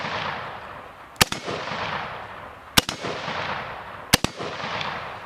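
7.62x39 rifle rounds smack into hard AR500 steel plates outdoors: three sharp, loud cracks about a second and a half apart, each trailing off into a fading wash of echo.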